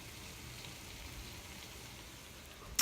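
Potatoes fry in a pan with a soft, steady sizzling hiss that runs throughout at low volume, ending with a brief clatter.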